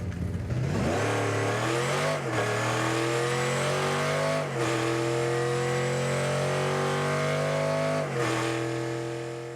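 In-game engine of the 1989 Batmobile in a video game, revving loudly and continuously with the pitch climbing and dropping back three times, like repeated gear shifts.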